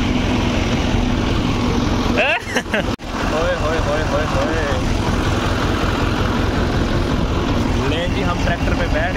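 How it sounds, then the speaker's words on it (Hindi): A tractor engine chugs steadily while people sit riding on it, a loud continuous low rumble with wind noise and a brief rattling knock early on, talk audible over it. "हम ट्रैक्टर पे बैठ गए हैं"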